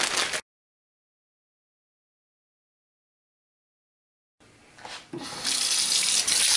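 Cold water runs from a tap into a bowl of soaked beans sitting in a sink. A short splash is followed by silence, then a steady, fairly loud gush that builds and keeps flowing.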